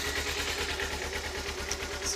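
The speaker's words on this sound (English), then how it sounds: "you can see it's idling low right now until it warms up" A cold Kawasaki Ninja motorcycle engine idles low near 1,000 rpm, giving a steady, rhythmic low chug under broadband hiss, close and continuous.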